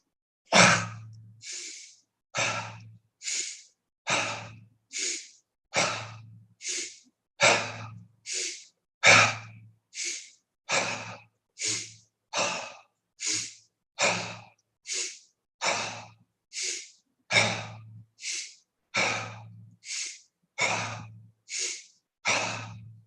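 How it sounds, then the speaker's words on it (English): Deep, slow breaths during a guided breathing exercise, about twenty-five rhythmic inhales and exhales evenly paced, close and clear with no talking over them. "Breathe in and then breathe out."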